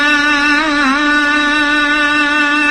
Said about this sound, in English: This is the sound of an Islamic call to prayer.